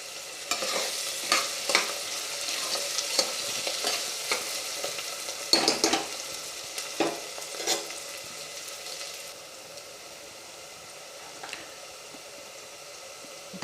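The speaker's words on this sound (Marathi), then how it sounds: "दोन मोठे कांदे बारीक करून घेऊन टाकल्यात. ते परतून घेऊ." Finely chopped onions sauté in a pan for masoor rice. A spatula scrapes and taps in quick bursts over a gentle sizzle, and after about nine seconds only the quieter frying hiss goes on.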